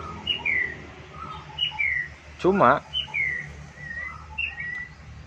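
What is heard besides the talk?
white-rumped shama (murai batu) singing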